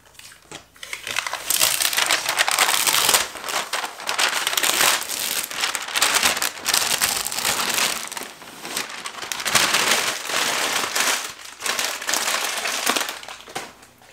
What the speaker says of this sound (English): So I'm definitely gonna peel off the masking tape.